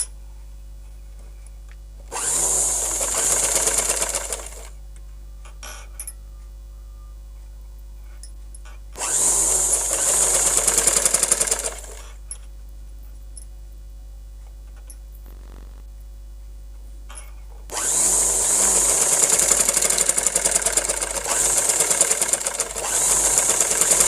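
Sewing machine stitching a long frock, running in three separate bursts of steady whirring stitches with quiet pauses between them.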